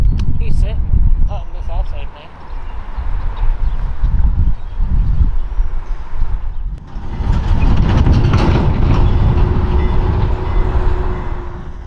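Heavy Amtrak diesel locomotives 518 and 519 haul a ballast work train past with steady low engine drone and rattling cars, loud and close, continuing throughout with a brief dip midway.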